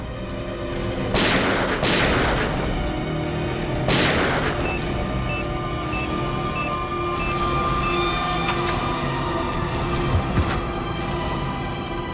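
Three loud, sharp gunshots in quick succession in a TV crime drama, each leaving a rumbling tail over a steady low background noise.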